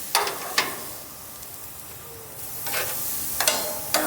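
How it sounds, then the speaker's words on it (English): Hanger steak on a grill with a low, steady sizzle, broken by a few sharp crackles and brief bursts of spattering hiss near the start and end. "And it's going to take a while to get the sizzle going."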